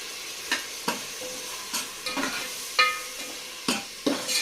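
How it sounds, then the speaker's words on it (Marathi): Onion, tomato and mutton masala spices sautéing in a pan, steady soft sizzle broken by about eight sharp stirring scrapes and knocks of a spoon against the pan, close and alone. "आता आपण ह्याच्यामध्ये मसाले टाकूया"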